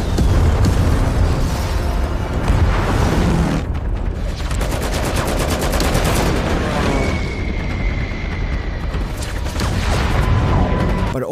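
Loud, continuous booming explosions and rumbling blasts roll one after another as an airbase is bombed in the film Midway, dense and chaotic, with bursts of gunfire and a whining tone in the mix.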